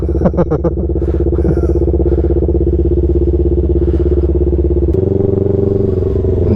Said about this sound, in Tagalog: So patakbuhin natin ang motor ni Orly.